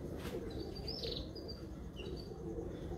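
A rooftop flock of pigeons in Sharjah keeps up a low, continuous cooing, with one or two brief, sharper chirps near the start. Nobody talks over the birds.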